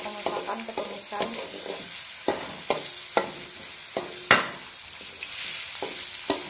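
Cauliflower and mustard greens are stir-fried in oil in a wok, with steady frying sizzle under a series of sharp spatula scrapes and knocks at irregular intervals, close and clear; no one speaks.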